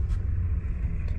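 A pickup truck's engine starts up and settles into a steady, close low rumble; no one speaks.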